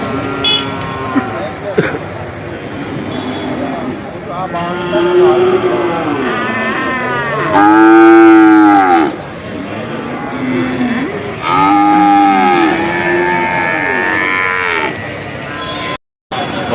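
Bulls lowing at a livestock market in Vaniyamkulam, several loud, close, drawn-out moos one after another over the market's background noise.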